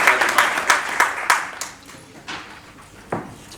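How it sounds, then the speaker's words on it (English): Audience applause at a summit of excellence event, a crowd clapping in several swelling bursts that fade into scattered claps, fairly close and loud with no talk over it. "Please applaud her for me."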